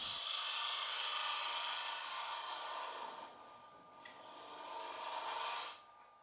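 A TurnMaster lathe tool with an HSS titanium nitride cutter shears wood while turning a bowl, giving a loud, close, hissing rasp. It swells and fades in two long passes, then stops abruptly.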